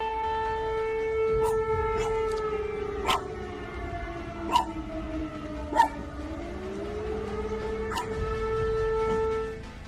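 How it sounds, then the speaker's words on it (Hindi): A wailing air raid siren rises and falls steadily for about ten seconds in Poland during a Russian drone attack, with a few brief sharp knocks or pops over it. "पोलैंड में एक रूसी हमले के कारण फिर से सायरन बज रहे थे।"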